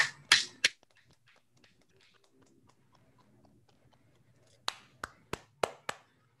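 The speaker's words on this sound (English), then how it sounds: "Let us all give a clap offering." Members of an online church worship congregation clap over their microphones: a few sharp claps at the start, a quiet gap, then a handful of separate, evenly spaced claps near the end.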